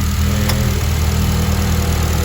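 A Honda Civic Si's K20A engine with a skunk tube intake manifold, Hybrid Racing cold air intake and aftermarket mounts idles steadily, a loud, even drone with a faint click early on and no voices.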